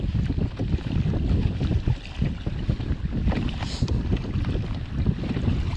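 Wind buffeting the microphone on a boat during evening striper fishing in New Jersey, a steady rumbling gust noise lasting throughout with water sounds beneath and no talking.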